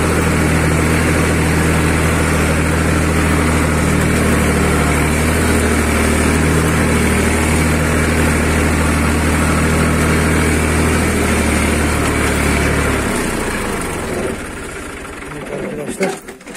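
A farm tractor engine runs loud and steady at close range in the rain, a constant harmonic drone that drops away near the end, with a voice faintly over it.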